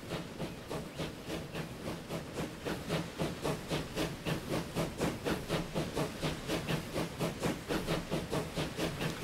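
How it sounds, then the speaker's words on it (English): Steam locomotive in the train-building game Transport Fever, chuffing in a steady fast rhythm of regular puffs with hissing steam, loud and continuous, no talk over it. "Listen to that sound of that train,"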